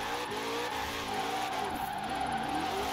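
Engine of a Ford Shelby GT500 (Mustang) in Forza Horizon 4, a loud, steady roar with shifting revs and tire squeal while drifting, continuous throughout without talk.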